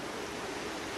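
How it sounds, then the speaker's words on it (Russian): A recorded sea sound plays as a steady, dense wash of surf noise, even and unbroken throughout, with no voices over it. "Звук моря."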